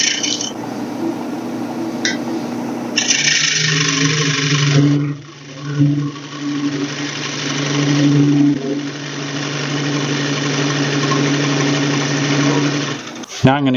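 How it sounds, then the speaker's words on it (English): Wood lathe spinning a bowl blank with a parting tool cutting a recess, a steady mechanical whir and hum with a brief scraping cut partway through, close and continuous under a voice. "we're going to take our parting tool and establish this diameter"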